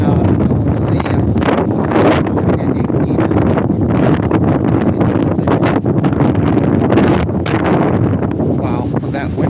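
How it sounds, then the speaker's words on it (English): Strong gusts buffet a phone microphone outdoors during a storm, a loud continuous roaring rumble with rustling bursts that never lets up across the whole stretch. "that wind just blew that phone around"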